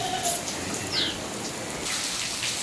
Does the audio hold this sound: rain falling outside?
yes